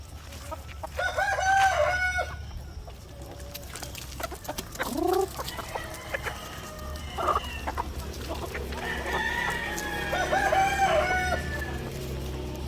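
Farm chickens cluck and a rooster crows repeatedly while the flock is fed whole corn. The calls come at close to moderate range over a low background hum, with no speech.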